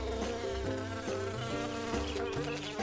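A bee buzzes steadily and close, a continuous droning hum with wavering pitch that pulses in short rhythmic swells, heard alone without talk.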